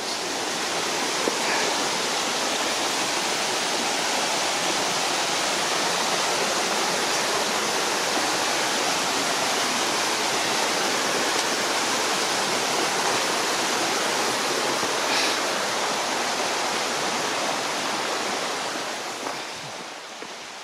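Stream water rushes steadily along a wooded valley walk at Hardcastle Crags, a loud, continuous broadband wash close by that holds even for about twenty seconds, easing slightly at the very end.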